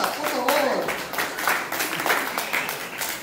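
A stand-up comedy crowd claps and cheers for New York at a Spanish-language show, the applause rising under a loud voice shouting over it.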